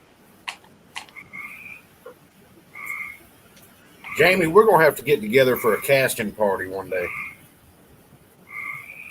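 Frogs croak in short repeated bursts in the background during a casual live stream, partly masked by a stretch of close conversation in the middle of the clip.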